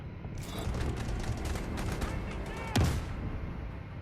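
Gunfire in the mobile shooter Delta Force Mobile: dense, continuous bursts of shots and distant rumbling fire throughout, with a louder, sharper shot near the end.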